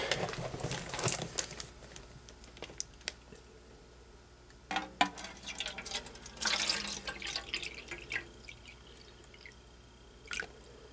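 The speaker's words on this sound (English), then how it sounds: "let me fill this up with distilled water" Distilled water being poured into a small Sea-Monkeys tank, dripping and trickling unevenly in close, quiet splashes with brief pauses between pours.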